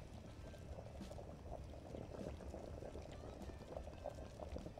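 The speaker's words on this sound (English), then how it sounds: "boil pot for 60 minutes. You can check the boiling time by looking at the pot." Brewing pot on the boil in the Brewpub Simulator video game, a steady low bubbling and rolling churn that holds at an even level throughout, with no voices.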